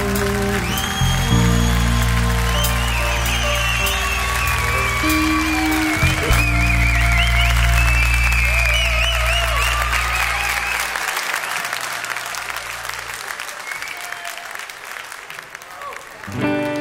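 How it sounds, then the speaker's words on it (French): A crowd at a concert in Chambéry claps steadily and loudly for several seconds, the applause gradually thinning, with music and voices carrying over it. "Vous pouvez les applaudir."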